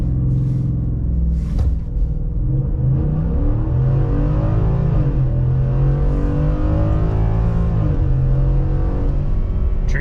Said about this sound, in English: Ford F-150 5 liter revved launch.